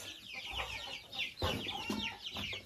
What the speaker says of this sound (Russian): вот это наш дрессированный цыпленок, который прыгал на сетку